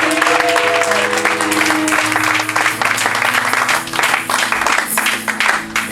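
A church congregation applauds loudly and steadily, sustained clapping filling the room with crowd noise and tonal music or voices running beneath.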